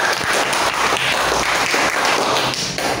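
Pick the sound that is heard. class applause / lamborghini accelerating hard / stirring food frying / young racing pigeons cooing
class applause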